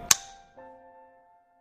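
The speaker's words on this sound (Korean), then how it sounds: "슬레이트. 2015 롤링 테이크 1." A wooden film slate claps once, sharp and loud, at the start of a take on a Korean arts-school graduation film set, followed by a faint lingering ring fading out.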